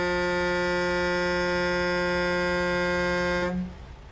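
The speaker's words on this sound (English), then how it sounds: "Sorry about the loud horn" A loud, sustained truck air horn blares steadily for about three and a half seconds in the American Truck Simulator game, then cuts off abruptly, leaving faint background hum.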